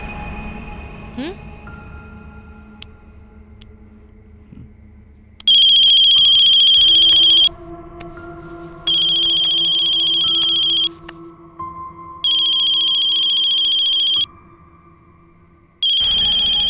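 A mobile phone rings in repeated bursts of a bright electronic ringtone, separated by pauses where background voices and ambient sound continue.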